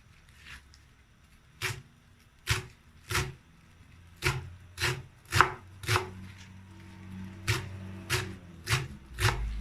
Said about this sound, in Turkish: Şöyle şu şekil lavadamı doğrayacağım.